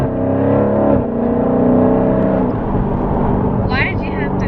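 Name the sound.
Dodge Scat Pack 392 widebody engine revving and accelerating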